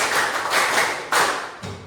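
Counted hand claps from a class doing a concentration exercise. Three or four distinct, bright claps land unevenly, with the last one softer, and there is no talk over them.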